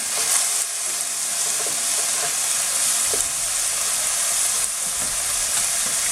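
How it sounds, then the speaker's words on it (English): Chili frying in hot oil for a Bengali dry fish dish, a loud, steady sizzle that crackles throughout with no talking. "So I'm just adding chili now"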